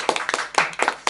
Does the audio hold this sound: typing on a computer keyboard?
no